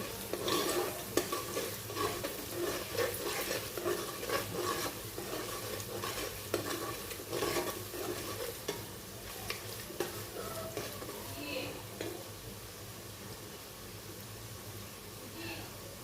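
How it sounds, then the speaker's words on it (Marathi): Onions frying in a pan for a traditional mutton paya recipe, a steady sizzle with repeated scraping stirs throughout, close and moderately loud, with occasional pot and utensil clinks. "बघा आता कांदा कसा लाल होत चालला आहे त्याचा कलर चेंज झालेला आहे"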